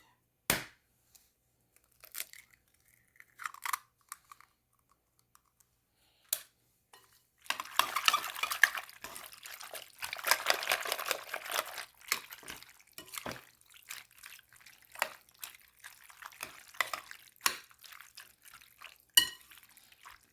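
Egg stirred into hot baked macaroni and cheese, a dense wet scraping and squelching of spoon against noodles and dish for several seconds, broken by sharper clinks of utensil on the pan before and after.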